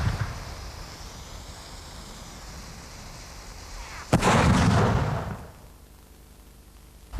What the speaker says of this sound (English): Once the shell's left the tube,